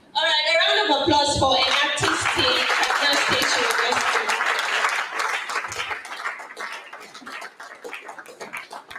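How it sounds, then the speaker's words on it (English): Audience applause for an artist team at a State University event, loud and dense clapping with scattered cheers, starting just after a voice and then thinning toward individual claps near the end. "a round of applause for an artist team at State University."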